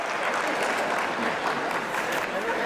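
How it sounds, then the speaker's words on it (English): Steady, dense applause fills a conference lunch keynote at a regional homelessness forum, a continuous wash of many hands clapping at moderate volume throughout. "give another round of applause for Tamara and the entire regional task force staff"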